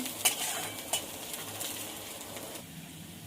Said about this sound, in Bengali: পেঁয়াজ রসুন একসঙ্গে ভাজা ভাজা করে নেব।